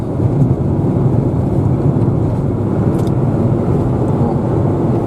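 Lada Kalina driving through a snowstorm, a steady low road and engine rumble from inside the cabin that stays even and loud throughout with no speech.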